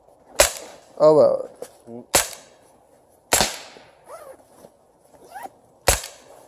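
A sniper fires distant gunshots: five sharp cracks spaced irregularly over several seconds, with brief bits of talk between them.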